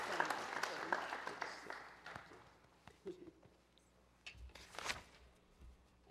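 Scattered applause at an honorary membership ceremony, a light patter of claps from a modest audience that thins out and returns in a brief burst before fading.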